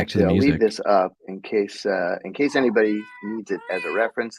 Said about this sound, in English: was a cat.